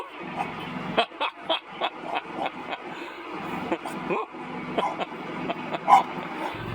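A dog barks repeatedly at a passing truck, a series of sharp yips and barks in an uneven rhythm, close and fairly loud, with someone talking over it.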